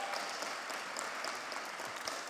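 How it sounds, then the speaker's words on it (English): An audience at a panel event on hate and racism applauds in a faint, steady patter of many hands, heard from a distance. "Let's give them a big round of applause."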